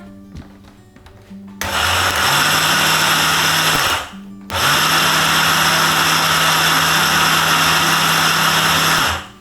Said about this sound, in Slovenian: In pa seveda bomo kar zblendali takole.